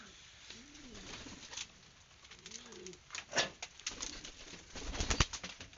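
Racing pigeons coo softly at the loft before being let out to fly, low repeated coos near the mic mixed with shuffling, wing flutters and bumps that grow busier toward the end.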